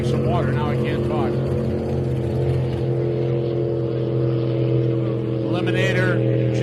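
An Eliminator jet boat engine roars steadily at a Parker Enduro race, a loud constant drone with strong low harmonics, while a voice talks over it.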